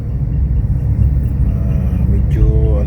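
Road traffic rumbles nearby, a steady low engine drone from passing cars with a brief higher tone near the end.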